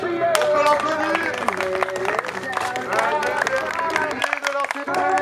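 Wrestling fans applaud and cheer a wrestler's ring entrance at a CWF event, a steady wash of clapping and crowd noise mixed under loud tonal music that briefly drops out near the end.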